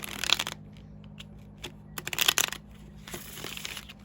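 Short bursts of riffling and shuffling of tarot cards, one at the start and a louder one in the middle, with quieter handling noise between them and a low steady hum underneath.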